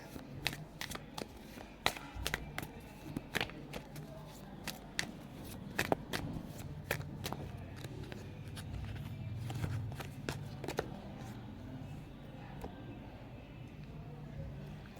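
Oracle cards being shuffled by hand, giving repeated crisp flicks and riffling snaps at an irregular pace, close and moderately loud, with a faint low hum and soft rustling underneath.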